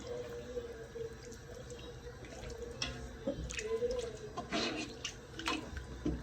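Water splashes and trickles into a pot of biryani in uneven bursts, fairly faint, with some clinking between pours.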